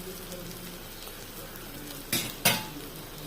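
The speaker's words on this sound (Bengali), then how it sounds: "আমরা এমনি করে এক একটা করে সব ভেজে নামিয়ে নেব" Paneer kofta balls frying in hot oil, a steady soft sizzle with two sharp louder bursts near the end as pieces go in or are turned.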